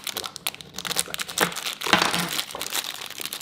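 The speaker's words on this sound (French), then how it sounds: "Je vais couper la boîte." Cutting open a cardboard advent calendar box of French regional cookies, close crinkling and tearing of packaging with irregular scraping bursts, louder snaps near the middle.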